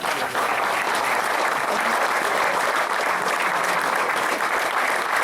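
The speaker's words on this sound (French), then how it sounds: "tous ces gens-là, on peut les applaudir" A crowd applauds the volunteers at an enduro motorsport event, a thick, even roar of clapping that holds at full strength throughout without talk.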